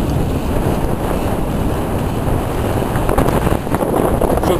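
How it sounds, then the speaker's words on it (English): Strong wind buffets the microphone with loud, gusty rumbling and roar, constant throughout, on a sailboat on Puget Sound. "Probably can't hear a thing because of the wind."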